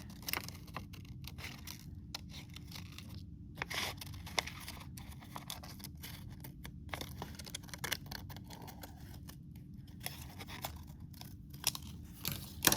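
Scissors snip through paper for a Bisa Butler–style collage, cutting close around a figure, with a long run of quiet, close crisp cuts and rustles in an irregular rhythm, no talking.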